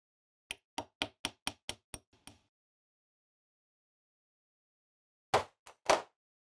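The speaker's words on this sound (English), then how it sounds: "So I've knocked the pin out" Sharp hammer taps on a specialist tool drive a brass pin out of a RockShox Charger mountain bike damper: seven quick, evenly spaced metallic knocks and a couple of faint ones, then silence and three louder, heavier blows.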